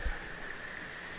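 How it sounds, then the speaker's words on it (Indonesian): Rain falling at night near a bird aviary, a steady hiss of drops on surfaces with a brief low thump at the start, no voices. "Malam ini hujan."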